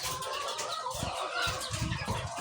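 Gamecock roosters cluck continuously in short, low, throaty bursts, several birds close by, against a steady noisy background.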